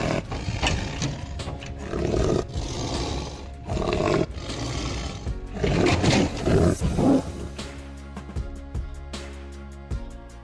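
A Siberian tiger being released into a protected reserve in Russia's Khabarovsk region lets out several loud, rough roars in bursts, separated by short pauses, with clatter and thumps near the end.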